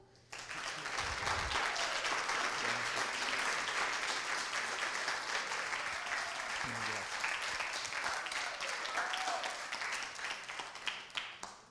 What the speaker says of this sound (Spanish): les pido por favor, lo recibamos con un aplauso.